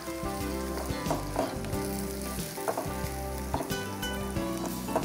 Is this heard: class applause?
no